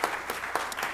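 Audience applause for panelists at a youth democracy summit event, a brief, moderately quiet patter of many hands clapping.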